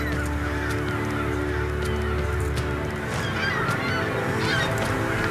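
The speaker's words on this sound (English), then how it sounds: "A colony of American white pelicans" A dense, continuous chorus of honking, grunting calls from a large American white pelican colony, steady throughout with overlapping voices near and far.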